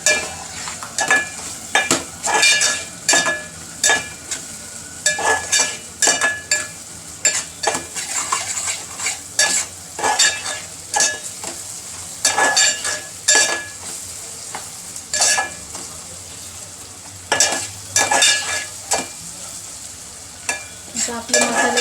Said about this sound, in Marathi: आपण याच्यामध्ये हळद टाकून घेऊया आणि लाल तिखट चांगलं मिक्स करून घेऊया.